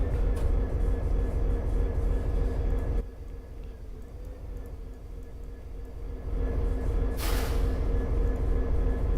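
An SD50 locomotive in the Trainz railway simulator runs with a steady low diesel rumble and rail noise, dropping quieter for a few seconds midway, then returning, with a brief hiss near the end.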